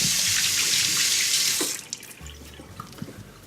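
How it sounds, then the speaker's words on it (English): Hands are washed under a running kitchen tap, with a strong, close rush of water for nearly two seconds before it cuts to quieter splashing and dripping. "I'm going to wash my hands."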